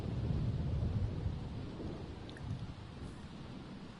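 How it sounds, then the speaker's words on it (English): Thunderstorm in the life-simulation game The Sims 4, a dense low rumble of thunder with rain noise rolling continuously and fading slightly toward the end, without voices. "Oh, it is the middle of a thunderstorm."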